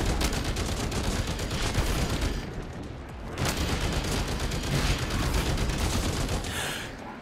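Rapid automatic gunfire from the shooter game SYNCED, dense close bursts of shots, a short pause at the three-second mark, then firing resumes steadily with no talking.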